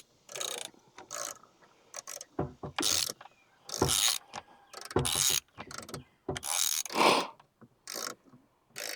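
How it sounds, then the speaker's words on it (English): A nut on a Jeep gas tank is worked back and forth through gunk, giving a series of short, close metallic ratcheting and scraping bursts with brief gaps between them. "Just working this nut back and forth, trying to get out some of this gunk so it's a little bit easier to spin"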